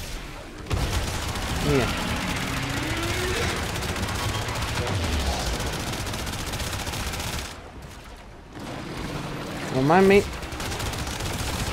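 Gunfire in Warframe during a fight, a dense rattling stream of shots and booming bursts running under casual talk, with a brief lull and then a louder burst near the end.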